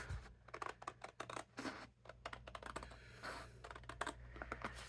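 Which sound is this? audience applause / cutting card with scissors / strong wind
cutting card with scissors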